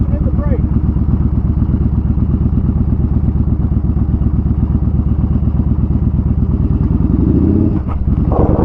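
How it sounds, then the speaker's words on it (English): A motorcycle ridden off-road over rough, rocky ground drones loud and close with a steady, throbbing engine note, then lurches with a clattering burst near the end. "You're riding a motorcycle, man."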